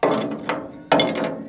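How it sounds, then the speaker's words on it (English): Two sharp metallic impacts of a hammer tapping weld off a fish plate, each a bright clank ringing briefly, spaced about a second apart, close and fairly loud. "just take a hammer or fish plate, whatever, and just tap that off there"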